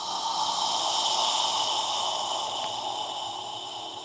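Slow breath out through the mouth during a yoga session, a steady soft airy hiss fading gently over a few seconds, close and alone with no talking.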